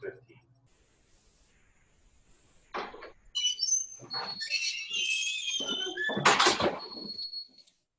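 Birds chirp and trill outdoors in short bright bursts, clear and fairly close, with a few soft thuds and brief speech mixed in among the calls.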